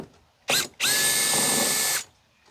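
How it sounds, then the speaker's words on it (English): A screw gun drives T25-head bolts from headliner hooks inside an Astro van: a short whir, a pause, then about a second of steady loud high-pitched motor whine, close by. "we'll just go ahead and throw that in the screw gun here"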